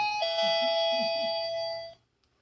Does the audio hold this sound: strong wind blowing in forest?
no